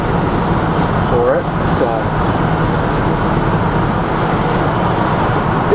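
Steady road and engine rumble from a 1972 Ford F-100 pickup cruising along, with someone talking over the continuous drone.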